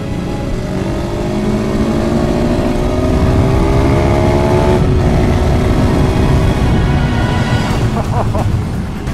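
KTM 690 Supermoto motorcycles race at Brands Hatch, loud single-cylinder engines droning and climbing through the gears, several bikes overlapping close by with a brief dip around the midpoint.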